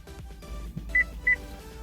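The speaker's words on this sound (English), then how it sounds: "You heard that beep. That means the key is programmed." Two short, clear electronic beeps sound from a Cadillac Escalade as its key fob finishes remote key learning, spaced about a third of a second apart over a quiet background.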